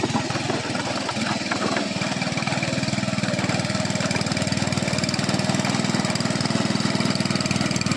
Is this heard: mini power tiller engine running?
yes